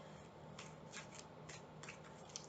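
A deck of tarot-style reading cards is shuffled in quiet, brief riffling bursts over a steady low hum, close and soft, with no talking.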